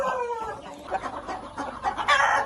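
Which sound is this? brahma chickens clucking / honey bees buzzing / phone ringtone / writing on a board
brahma chickens clucking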